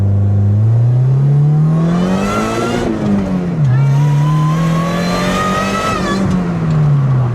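Supercharged Honda Civic with a K24 engine swap revs loudly and steadily, its pitch climbing and dipping across several pulls with brief stumbles where the engine cuts out, close and dominant throughout.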